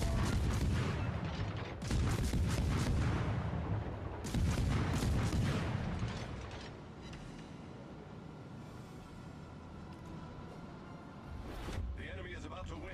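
Naval artillery firing in World of Warships: Legends, from a Fletcher destroyer and other ships, heavy booming salvos in bursts over rumbling engine and sea noise, with someone talking over the action.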